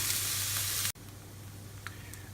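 Peppers and onions sizzle in a pan, a steady hiss that cuts out briefly, then carries on at a lower, quieter level with a few faint clicks.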